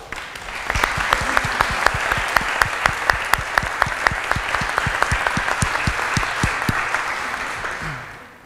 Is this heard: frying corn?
no